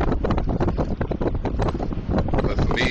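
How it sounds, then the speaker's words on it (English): Strong gusty wind in snowy weather buffets the microphone in a continuous roar, loud and close, with no other clear sounds. "it's cold, it's windy, it's snowing"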